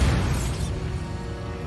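A Bombarda blasting spell goes off in the Hogwarts Legacy video game, opening with a loud boom at the start and then fading into a sustained rumbling, crackling tail.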